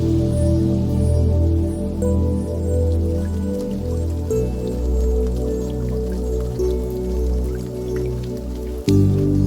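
Steady rain falls and drips on surfaces outdoors, a continuous close patter that holds evenly before a brief shift near the end, with no talking.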